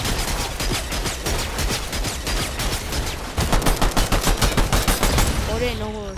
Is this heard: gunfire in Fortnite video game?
yes